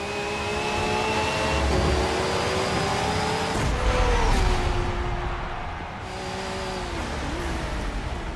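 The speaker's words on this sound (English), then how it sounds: "Racing is reborn in Forza." Racing cars in Forza Motorsport 7 roar with engine tones that rise and fall as they rev and shift, swelling louder midway, then easing off before climbing again.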